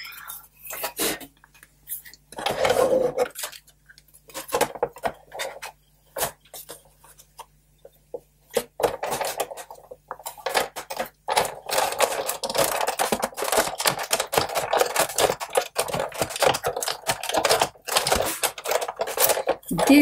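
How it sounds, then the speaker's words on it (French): Cutting paper by hand for a handmade card, a long run of crisp, rapid clicks and snips that grows denser toward the end, close and fairly loud with no talking. "Et je viens faire ma découpe."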